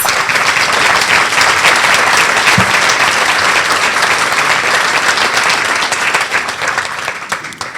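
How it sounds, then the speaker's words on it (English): Sustained, dense applause from an audience at a leadership awards dinner, steady and loud throughout before tapering slightly near the end, with no speech over it. "Please give him a round of applause."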